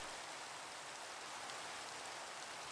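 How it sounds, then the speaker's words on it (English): Steady rain hisses down in a Minecraft world, a soft, even wash of drops that holds without break and without voices. "Why is it always raining?"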